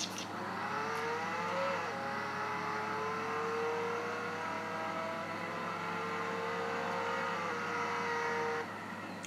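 Car engine in the Roblox game Jailbreak, a steady revving drone with rising and falling pitch as the vehicle drives, loud and continuous for nearly the whole clip before cutting off near the end.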